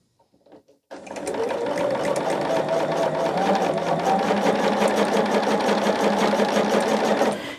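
Sewing machine stitching quilt strips for a scrap quilt, starting after a second of quiet and then running in a loud, steady, rapid whir to the end.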